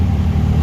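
Yellow-plate taxis driving past on a road, a brief loud rumble of car engines and tires rolling by close at hand.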